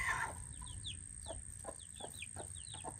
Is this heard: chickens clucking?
yes